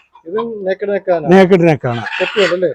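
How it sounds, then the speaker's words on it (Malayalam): A frizzle hen gives loud, drawn-out clucking and squawking calls in quick succession, close by, with barely a pause between them. "ഇതൊരു മുള്ളൻ കോഴിയാണ് മുള്ളൻ പെടക്കോഴിയാണ്"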